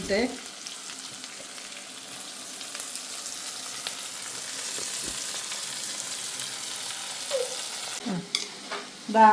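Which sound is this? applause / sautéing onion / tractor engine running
sautéing onion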